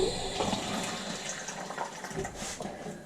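A kitchen tap runs while water is fetched for mixing jalebi batter, giving a steady, moderately close stream of splashing flow with slight fluctuations and no talk.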